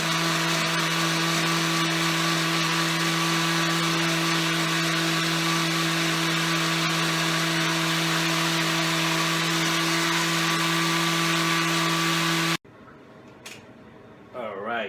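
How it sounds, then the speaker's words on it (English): A blender whirs loudly and steadily at a constant high-pitched drone for about twelve seconds, blending fried onions and half and half into a paste, then stops abruptly, and a voice speaks briefly afterward. "we have the fried onions and the half and half in the blender, and now we are going to make it into a paste"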